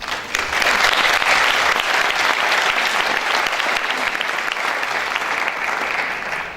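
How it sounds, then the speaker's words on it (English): An evening concert audience applauds the visiting ambassadors with steady, dense clapping that stays loud and even from start to finish. "I think they do deserve a big round of applause"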